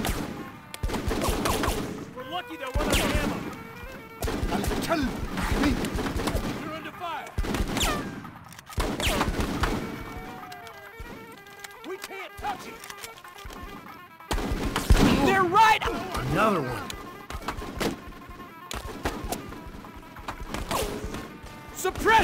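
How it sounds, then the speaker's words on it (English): Gunfire rattles through the Full Spectrum Warrior: Ten Hammer video game in repeated loud bursts and single shots across the whole stretch, with sharp impacts and brief lulls between volleys. "We're under fire."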